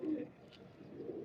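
Teddy King pigeons coo softly in a short, low, muffled burrowing call, fairly faint and close, with no talking over it.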